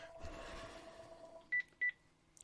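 Two short telephone dialing tones beep clearly after a stretch of faint low background noise.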